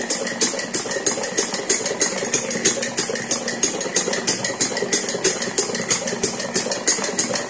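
A sewing machine stitching a semi Patiala salwar, running steadily with a fast, even mechanical rattle and whir, loud and close with no voices.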